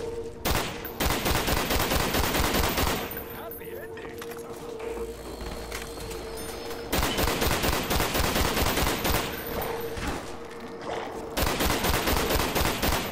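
Double FAL rifles fire in Black Ops zombies mode, dense rapid gunfire in loud sustained bursts separated by brief pauses, with talk mixed in.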